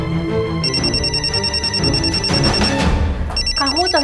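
A telephone rings in steady repeated trills, loud and close, while people talk over it and some music plays underneath.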